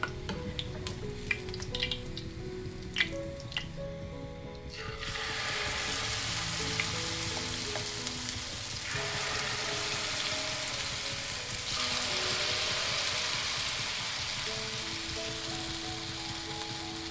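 Wheat flour snack frying in oil over a medium flame: a steady, dense sizzle that swells loudly after a few seconds of quieter bubbling and light clinks, continuing close and even with no talk.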